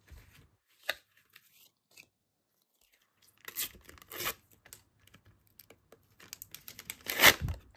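Monsters University sticker packs being torn open by hand, with scattered crinkly rips and rustling bursts separated by quiet gaps, close and moderately loud.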